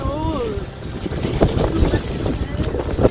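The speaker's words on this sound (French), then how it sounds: "Il fait pas chaud, il y a beaucoup de vent." Gusty wind buffets loudly against the microphone in rough, uneven bursts, with a voice briefly audible underneath.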